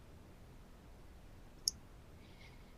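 A single crisp computer mouse click while importing data in tax software, faint and isolated against quiet room hiss.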